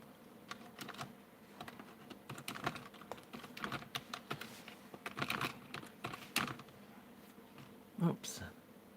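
Computer keyboard typing in bursts of quick, faint key clicks at close range, with soft background noise and a brief murmur near the end.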